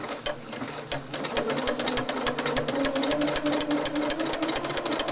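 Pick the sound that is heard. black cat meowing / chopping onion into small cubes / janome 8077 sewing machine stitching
janome 8077 sewing machine stitching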